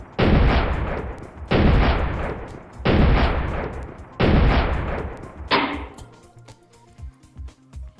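An AN-94 Abakan rifle fires four loud, evenly spaced single shots about 1.3 seconds apart, each with a long ringing decay, followed by a weaker fifth report and light mechanical clicks.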